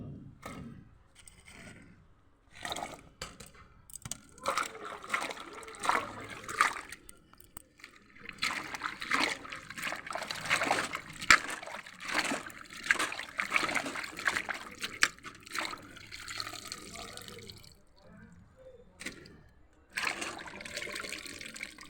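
A muddy item is scrubbed and rinsed by hand in water, with sloshing, splashing and dribbling in irregular bursts nearby, broken by a few short quiet gaps.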